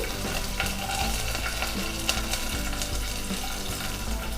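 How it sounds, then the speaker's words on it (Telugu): Green chilies fry with curry leaves in hot oil for tender tamarind leaf dal, giving a steady close sizzle with stirring scrapes and no talk. "ఇప్పుడు కరివేపాకు వేగిన తర్వాత మనము ఈ పచ్చిమిర్చి,"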